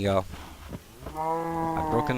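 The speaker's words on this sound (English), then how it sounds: "I see some cows, and that means food." Cows mooing in a survival video game, two long lowing calls with a short gap between, close and fairly loud, with no speech over them.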